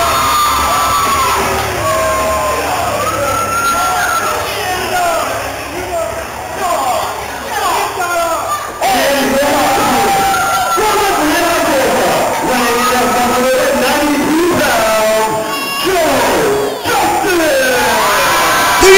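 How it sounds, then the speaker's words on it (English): A wrestling crowd roars at a live match, with loud, continuous yelling, whoops and cheers and a sudden surge partway through, while an announcer's voice carries over the din. "Sound of this crowd!"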